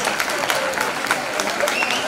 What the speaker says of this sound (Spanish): Ese aplauso fuerte para Sofía Cortés.